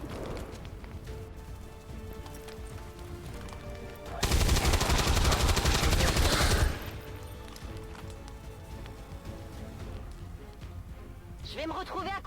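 Gunfire in the video game XCOM 2: a dense, loud burst of rapid shots lasting about two seconds in the middle, set within game music and ambience, with someone talking over parts of it.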